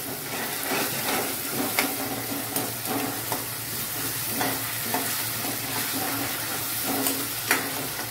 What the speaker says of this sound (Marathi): आणि परतून घ्यायचे।